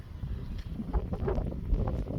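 Blustery seaside wind at the sandy beach of Kijkduin in The Hague, buffeting the microphone in rough gusts with faint rustling.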